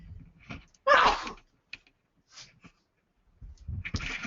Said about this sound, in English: I felt a sneeze coming on, so I quickly took my headset off